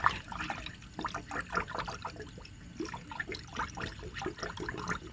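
Liquid flowing and trickling while the cooling system of a DA64W Suzuki Every Wagon is flushed, an uneven gurgle and splash of water close up and fairly quiet, with no talk.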